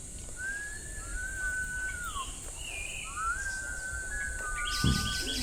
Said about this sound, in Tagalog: ang ganda ng mga huni ng ibon